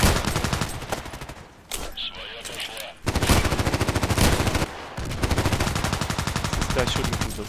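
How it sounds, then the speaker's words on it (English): Rapid automatic gunfire in the Contract Wars shooter, aimed through a window, comes in loud, dense bursts with two short lulls between the volleys. "This guy shooting through the window."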